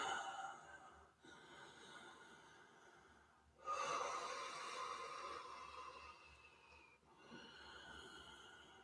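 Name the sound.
Ujjayi breathing during yoga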